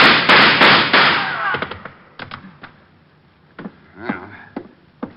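Gunfire in a radio drama shootout: a rapid burst of several loud, sharp shots up front, then scattered single cracks and thuds that fade further off, with no talking over them.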